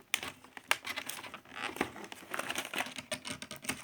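Tape peeled off a cardboard parcel box as it is opened, a run of dry crinkling and tearing rasps with small taps, close and moderately loud, no talking.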